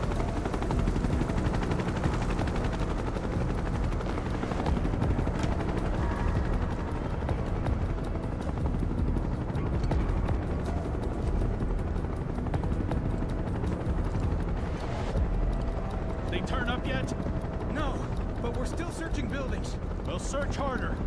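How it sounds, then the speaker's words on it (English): Helicopters in the video game Final Fantasy VII Rebirth make a continuous loud rotor roar, mixed with rapid gunfire-like bursts and dense battle noise throughout. "They have like helicopters."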